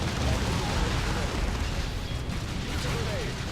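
Grenade explosions from the video game Dawn of War 2 merge into a continuous heavy roar of blasts and rumbling debris that stays loud and dense from start to finish.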